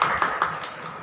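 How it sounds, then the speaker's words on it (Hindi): A church congregation claps to welcome the pastor, with a brief burst of dense applause that taps along evenly and fades out within a second. "हम पास्टर जी को ताली बजा के पास्टर का स्वागत करेंगे।"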